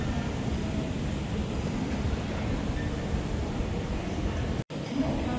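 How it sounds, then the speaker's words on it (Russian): Inter-terminal train at Hong Kong airport in motion, a steady low rumbling and rattling roar with wind-like noise, continuous and close, broken by a brief dropout near the end. "Как в очень большом количестве аэропортов Азии, здесь есть еще поезд между терминалами."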